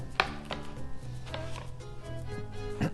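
A knife slices through a baguette on a cutting board, a few sharp crunchy cuts spaced irregularly over a quiet background with a low hum.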